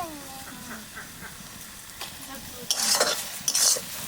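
A spoon stirs a curry of taro and taro stems with hilsa fish head in a pan, giving a soft sizzle and scraping strokes, with a louder burst of bubbling and scraping near the end.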